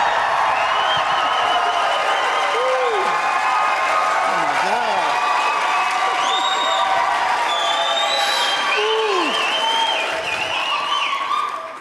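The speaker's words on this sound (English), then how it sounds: "I don't know that I've ever taken a stage with that kind of a rounding of applause there." A large audience at a civic fireside chat on stage keeps up a steady wash of applause mixed with cheering and whoops for about twelve seconds, with scattered shouts and voices above the clapping.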